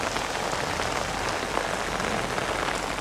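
Heavy rain pours steadily onto the flooded courtyard of a temple cemetery in Vietnam, a dense, loud, unbroken hiss of drops on the ground.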